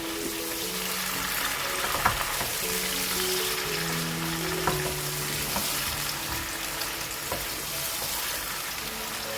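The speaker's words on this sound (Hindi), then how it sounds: "गरम मसाले को हम अभी ऐड करेंगे और गोश्त के साथ इसको फ्राई कर लेंगे।" Steady sizzling and crackling of goat meat frying with garam masala in a hot pan, with occasional scraping stirs and faint clinks of utensils.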